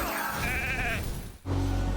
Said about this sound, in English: Well, he can sheep my Pythion